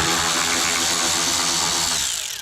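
A power tool backs screws out of the reverse light assembly on a 2022 Corvette C8, one steady, loud whirring run that winds down at the end, with no talking over it.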